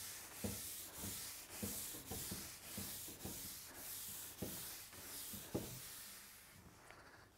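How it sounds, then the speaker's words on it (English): Coarse wire wool scrubs a mid-century G-Plan teak nest of tables in repeated rough strokes, a steady abrasive rasp with soft thumps at each change of direction, close and fairly quiet, with no talking. "Now the second, I'm going to use this coarse wire wool."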